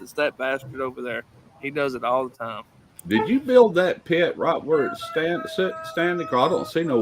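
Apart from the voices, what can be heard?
None of the usual background noises is heard.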